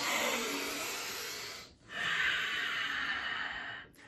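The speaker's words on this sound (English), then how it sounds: "as you're breathing deeply" Deep, steady breathing while arching and undulating the spine, two long brey airy breaths, each several seconds long, with a brief pause between them, close and fairly quiet.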